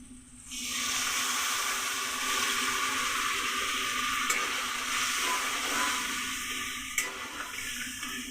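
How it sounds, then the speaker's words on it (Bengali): Water poured into a hot pan of parwal and potato curry, a steady loud hiss and bubbling sizzle that rises at once and holds for several seconds, with faint utensil clicks. "দিয়ে দিচ্ছি একটু পরিমাণ মতো জল"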